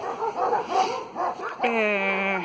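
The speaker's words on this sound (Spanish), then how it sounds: "Mucho perro." Dogs barking in a residential neighborhood of Ushuaia, with a few yips and whimpering sounds early on, then a sustained, tonal howl-like cry at close to moderate range, mixed with other background noise.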